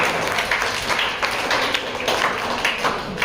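A seated audience at a poetry recital claps together, a dense, continuous patter of many hands close by that runs throughout without talk.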